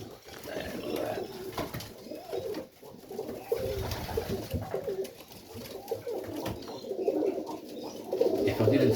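Pigeons coo in a loft of junior Serbian highflyer pigeons, soft repeated throaty calls rolling on and off close by, with faint scuffling and low background noise between them.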